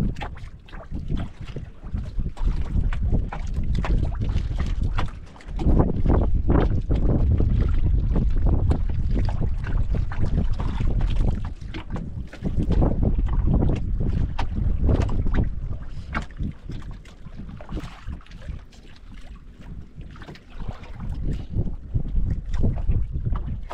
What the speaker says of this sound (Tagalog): mahangin pa rin talaga.